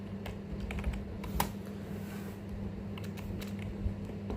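Quiet keystrokes on a computer keyboard while a command is typed, in an uneven run of light clicks with a soft steady hum underneath and no voices.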